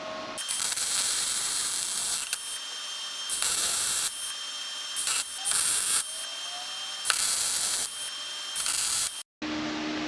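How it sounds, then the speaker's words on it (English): A Firebird subframe is welded, the crackling, spitting arc buzz coming in several loud bursts of a second or two, separated by short pauses and a brief silence near the end. "Time to do some welding."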